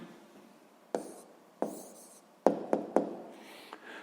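Pen strokes writing an answer by hand during a sixth-grade geometry lesson: about six short, separate scratches on paper at an uneven pace, close and quiet over a faint, steady background.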